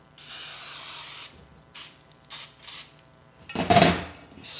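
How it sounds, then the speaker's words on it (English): A can of cooking spray sputters in short uneven hissing bursts onto a bundt pan, ending in a louder final spurt, close up with no one talking. "the spray doesn't seem to be working that well today"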